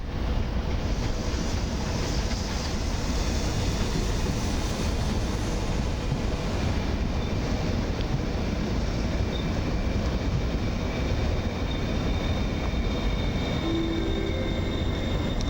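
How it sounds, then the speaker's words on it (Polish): A Stadler electric multiple unit rolls into a platform at Warszawa Wschodnia station on a winter day, a steady broadband rumble and rush of wheels and wind running continuously and fairly close, with no talk. "A na sąsiednim peronie wjeżdża Stadler z Siedlec do Warszawy Ochoty."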